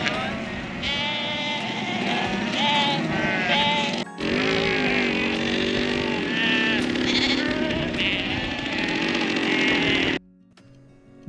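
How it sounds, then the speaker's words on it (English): Sheep bleat repeatedly and overlap in a crowded stockyard on an Australian farm, loud and near, with a steady engine-like drone running underneath until it cuts out near the end. "go out into the paddock and bring the sheep into the yard"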